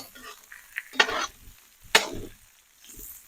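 Salo sizzling and frying in a pan, stirred with a utensil in two sharp scraping bursts after the lid is lifted, with a steady crackle in between.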